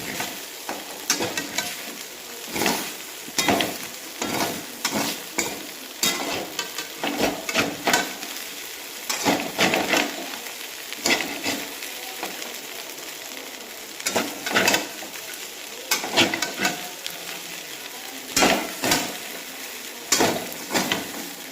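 Food warming in a pan with repeated scraping and stirring strokes over a steady sizzle, close and fairly loud, with no one talking.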